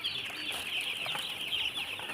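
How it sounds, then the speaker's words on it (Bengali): High, steady peeping from a crowd of two-day-old broiler chicks in a poultry brood, a dense continuous chorus of thin calls close by with no talking. "দেখতে পাচ্ছেন আমাদের ব্রয়লার বাচ্চা, পোলট্রি মুরগির বাচ্চা"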